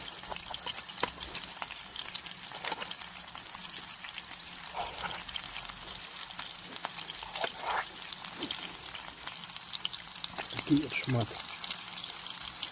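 Pieces of meat fry with garlic and rosemary in a cast-iron pan over a spirit burner, a soft, steady sizzle with small pops and stirring clinks under a voice talking throughout.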